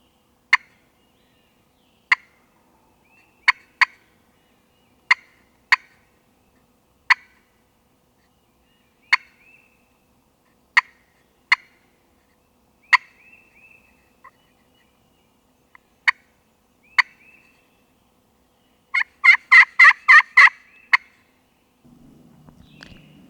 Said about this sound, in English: gobbling his head off.